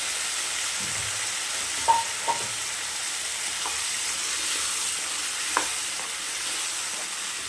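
A ground masala paste goes into a hot pan for a potato, green pea and cauliflower curry, giving a steady close sizzle and hiss with a few soft clinks of a spoon against the pan.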